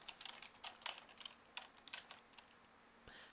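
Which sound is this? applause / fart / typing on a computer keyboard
typing on a computer keyboard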